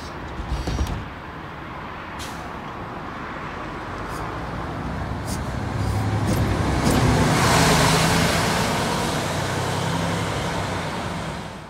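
A metro replacement bus and surrounding street traffic in Budapest, a low rumbling engine and road noise that swells as a vehicle pulls away, with a few sharp clicks and creaks early on, no talking.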